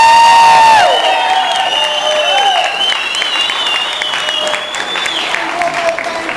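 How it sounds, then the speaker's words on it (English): Audience applause at a Montana ranch party honoring guides, wranglers and instructors, loud steady clapping with some cheering, fading slightly toward the end, while whistling tones ring out above it. "Let's give them a round of applause."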